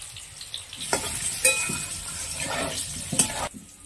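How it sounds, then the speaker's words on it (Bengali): Potatoes with turmeric and salt sizzle steadily in hot oil while a utensil stirs and scrapes the pan a few times, close and moderately loud. "এবার আলুগুলো ভেজে নিচ্ছি"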